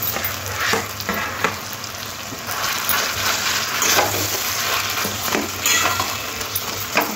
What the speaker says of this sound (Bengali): আলুটা দিয়ে খুব ভালো করে কষে নিতে হবে